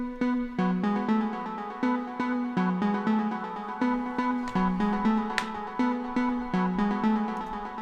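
A three-layer synth lead from a deep progressive house track plays a steady, plucky repeating melodic pattern with evenly spaced note attacks over a low sustained tone.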